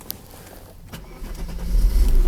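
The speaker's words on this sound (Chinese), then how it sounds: "大哥已经把引擎发动了" A Mercedes R129 300SL, just back from a fuel distributor repair, cranks briefly and catches, its engine rising into a loud, steady idle up close.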